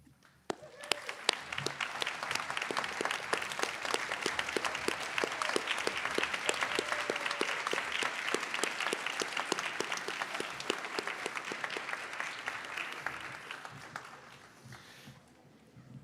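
Audience applause fills a nursing pinning ceremony, a dense, steady wash of many hands clapping that swells quickly, holds loud and even for over ten seconds, then tapers off near the end.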